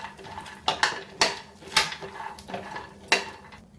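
Dry fruits and watermelon seeds are dry-roasted and stirred in a pan over low flame, with a spoon knocking and scraping the metal in a series of sharp clinks, close and uneven.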